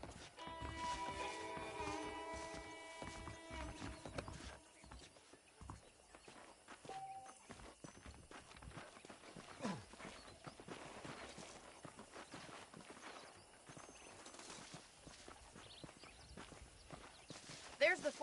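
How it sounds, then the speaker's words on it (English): Saddled horses in Red Dead Redemption clip-clop at a walk, irregular hoof thuds mixed with game ambience under steady speech in another language. "The horses are saddled up over here."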